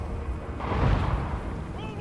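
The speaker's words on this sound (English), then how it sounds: "The Thane being targeted by the Empire Great Cannon." A deep, muffled boom from an Empire Great Cannon firing in a Total War Warhammer battle, a single swelling blast under ongoing talk from a commentator.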